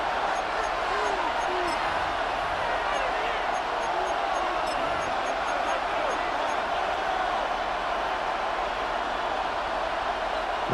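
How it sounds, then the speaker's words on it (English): Steady, dense stadium crowd roar from the video game Madden NFL 26, swelling late in a tied game as a continuous loud wash under commentary. "This crowd turning up the decibel level."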